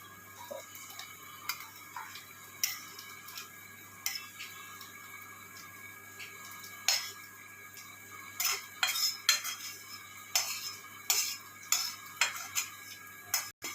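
Bottle gourd and shrimp curry (lau chingri) is poured out of a pan, with repeated light metallic clinks and scrapes of a utensil against cookware, close and fairly quiet, no voices.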